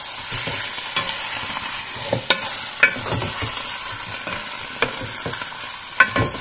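Pork belly stirred in a dark, sticky mushroom sauce for adobo, with repeated scraping clatters of a utensil against the pan over a steady sizzle, close and fairly loud, with no talking.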